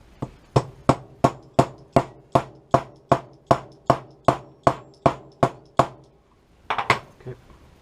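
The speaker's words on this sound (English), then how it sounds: "I'm going to hammer it in with a nylon hammer" A nylon hammer taps a part into an STI 2011 pistol during reassembly: about a dozen sharp, evenly spaced strikes, then a short pause and a quick cluster of final taps, close and crisp.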